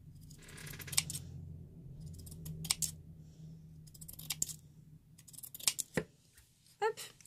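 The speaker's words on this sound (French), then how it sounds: "Je vais me couper quelques bandes." Scissors snip through paper strips for craft trading cards, with several crisp, close cuts spaced a second or so apart over a quiet background hum.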